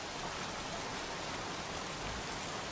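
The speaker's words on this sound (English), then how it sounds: "Goddamn rain. Soaking wet." Steady heavy rainfall hisses evenly throughout a scene in the video game Heavy Rain, a dense broadband downpour with no other sounds standing out.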